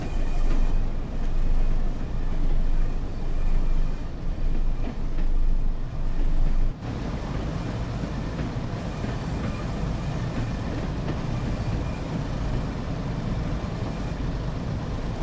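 A Class 101 diesel multiple unit running between Leeds and Huddersfield in Train Sim World 2, a steady loud engine drone and rumbling wheels on rails, with a sudden change in tone partway through, no talking.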